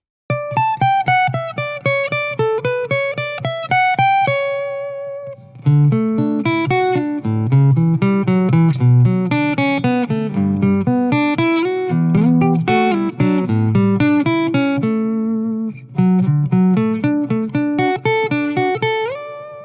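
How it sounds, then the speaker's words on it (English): Bright, clean plucked guitar notes from a PRS piezo pickup with a crisp acoustic-like tone play a melodic passage with arpeggios and chords, with a short pause midway. "we're going to hear the piezo in my PRS"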